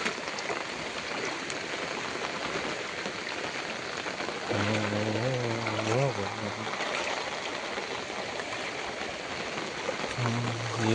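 Heavy rain pours down steadily, a dense hiss of drops and running water that fills the whole stretch, with voices talking briefly over it.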